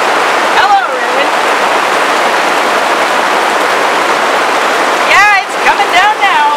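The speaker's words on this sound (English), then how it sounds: "other than that rain, which is not as much fun for me as it is for you" Steady, heavy rain pours down as a continuous loud hiss and wash of falling water, with a person speaking briefly at the beginning and end.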